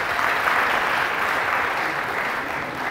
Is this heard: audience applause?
yes